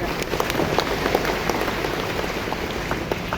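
Applause from an audience at a Nahdlatul Ulama gathering in a hall, welcoming the organisation's chairman: dense, steady clapping from many hands that fills the whole stretch, moderately loud with no talk over it.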